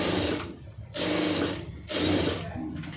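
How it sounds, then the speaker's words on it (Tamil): A sewing machine stitches a lining piece in three quick close bursts of rapid mechanical whirring, separated by brief pauses. "தைக்கும்போது லைனிங் பீஸ் தைக்கையில்"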